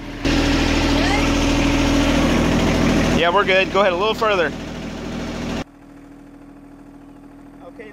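A John Deere tractor engine idles steadily and loudly, with someone briefly talking over it before the engine noise drops to a quieter rumble.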